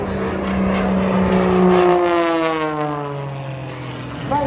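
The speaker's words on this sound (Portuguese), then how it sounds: "Vai para o mergulho com a sequência de voo e acompanhamos então o extra" Extra aerobatic propeller airplane making a low pass at an air force academy airshow, a loud buzzing engine drone whose pitch drops as it sweeps past, fading slightly before a small rise at the end.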